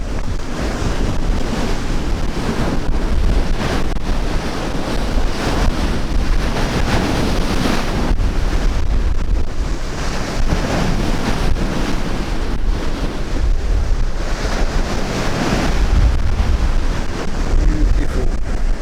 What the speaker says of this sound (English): I love sitting by the sea.